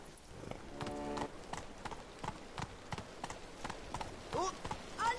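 Horse hooves clip-clopping at a gallop in The Witcher 3, a steady run of hoofbeats in the foreground with an animal call and a brief voice over it.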